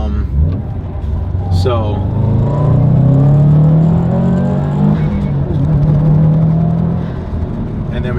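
A 2019 Subaru STI engine revs steadily through a figure-8 loop, a loud continuous rumble with rising and falling pitch as it accelerates, heard from inside the car, with a single brief spoken word at the start.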